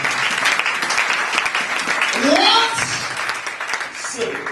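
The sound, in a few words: congregation applauding at a wedding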